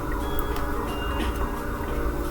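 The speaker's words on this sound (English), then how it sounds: "Sorry about those sirens, y'all. It's kind of loud." Emergency vehicle sirens wail outside, loud and steady across the whole stretch with a dense low traffic rumble underneath and no talking.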